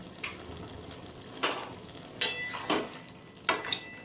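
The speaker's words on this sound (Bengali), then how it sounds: "এবারে ভালো করে নেড়েছি" Ash gourd curry is stirred in a pot, giving a handful of scattered scraping and clinking strokes of a utensil against metal, close and moderately loud with no talk.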